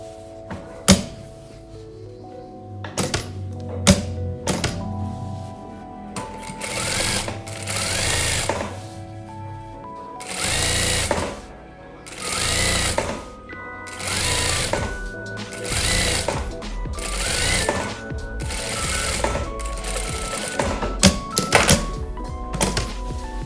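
A sewing machine stitching a waistband runs in several loud bursts of rapid whirring stitches, stopping and starting between them, with sharp thunks and knocks from handling the fabric and machine at the start and end.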